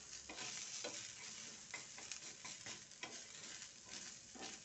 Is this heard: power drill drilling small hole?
no